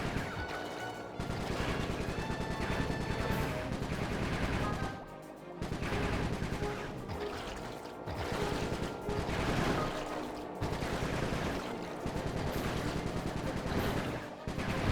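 Dense, continuous gunfire crackles through Sly 3: Honour Among Thieves, sustained volleys layered over game music and effects, briefly dropping out in a few short gaps.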